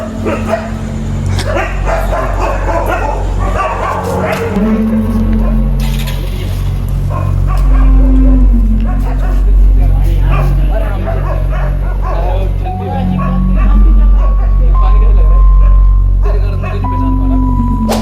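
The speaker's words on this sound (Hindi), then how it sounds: "सारे तरफ कुत्ते भोग रहे हैं भाई" Dogs bark and yip repeatedly at night, at 3 AM, some near and some farther off, while someone talks over them almost constantly.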